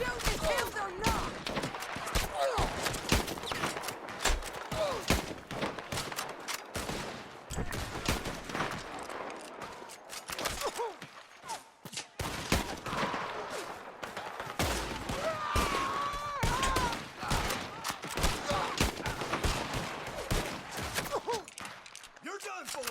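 Gunfight in Red Dead Redemption 2, with dense, continuous volleys of rifle and pistol shots overlapping into a rolling fusillade. The firing is loud and sustained, with shouted voices now and then amid the shooting.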